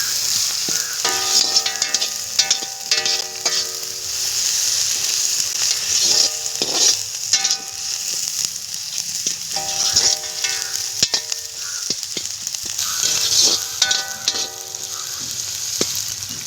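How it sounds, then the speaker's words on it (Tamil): Onions sauté in a pan for a rock fish and pumpkin kuzhambu, a steady loud sizzle broken by repeated clattering scrapes and stirring strokes of a spoon against the pan. "வெங்காயம் நல்லா பொன்னிறமாக வதங்கணும்."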